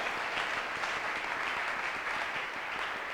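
A church congregation applauds steadily and loudly after a sermon reading, a dense, continuous wash of clapping hands with a few faint voices mixed in, holding at an even level throughout.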